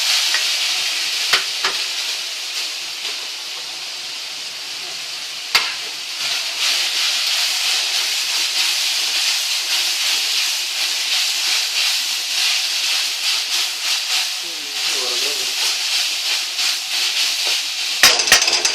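Slit green chillies fry with browned onions in oil for chicken kadai, a loud steady sizzle and hiss with scraping stirs and a few sharp clanks of the spoon against the pan.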